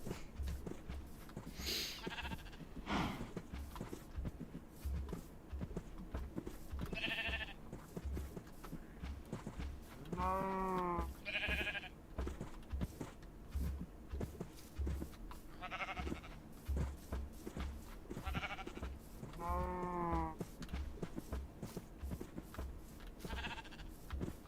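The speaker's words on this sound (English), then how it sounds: "Oh, there's another sheep." Minecraft sheep bleat in a wavering, quavering tone, two clear calls among scattered shorter ones, over steady blocky footsteps and game noise as a herd of farm animals crowds along.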